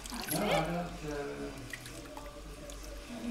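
Water is poured and swept over hair during a salon hair treatment, giving a soft, close trickling and splashing that runs throughout at low level with faint background murmur.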